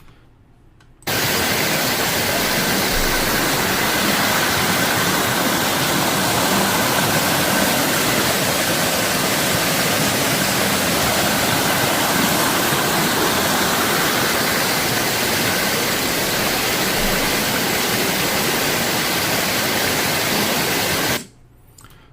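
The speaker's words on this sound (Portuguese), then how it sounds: "Tá aí a imagem da cachoeira." A waterfall of flowing water roars as one dense, unbroken broadband rush, loud and steady for about twenty seconds, beginning and ending abruptly, with no voices over it.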